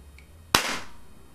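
A homemade toy gun loaded with matchstick heads fires once, giving a single sharp, loud bang that decays over about half a second, after a faint click and quiet room tone.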